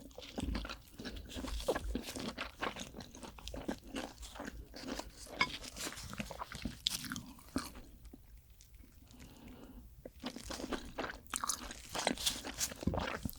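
Large rock oysters are chewed close to the mic, giving wet, squelching bites and crunches in an uneven, continuous rhythm with brief pauses.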